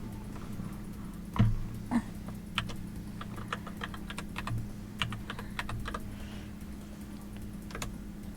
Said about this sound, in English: I need my keyboard here